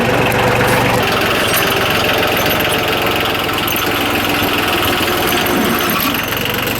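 A 1989 Yanmar 2220D tractor's diesel engine idles close by, a steady loud chugging rumble with continuous knocking throb and no pauses.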